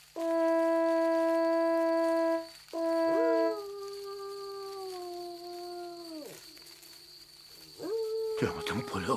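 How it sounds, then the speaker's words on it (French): A wolf howling in a French animated tale, long sustained wavering tones repeated several times, loud and close, followed by a short rising howl and a burst of scraping noise. "Le loup n'est pas loin."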